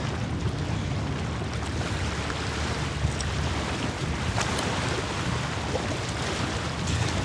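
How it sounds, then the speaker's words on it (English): Ocean waves wash and surge steadily, mixed with heavy wind buffeting the microphone, a continuous rumbling roar with no voices. "Hear the waves."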